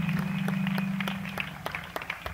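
A crowd at an evangelical crusade in Douala claps in a rapid rhythm, loud and close at first, then thinning into scattered claps, over a steady low hum.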